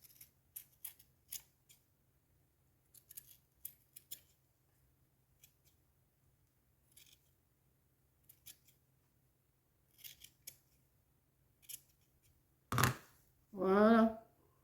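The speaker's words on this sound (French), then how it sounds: "Je vais déjà en couper un petit peu comme ça." Scissors snipping a doll's hair to cut a fringe: a series of small, crisp close-up snips spread out over time, faint between cuts, followed by a brief burst of speech near the end.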